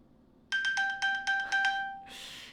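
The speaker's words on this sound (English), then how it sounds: "It's probably worth having an Apple Watch just to hear that sound when you've lost your phone." An iPhone's lost-phone ping, triggered from an Apple Watch, sounds as a quick run of about seven bright electronic chimes, then a brief airy swoosh, clear and close.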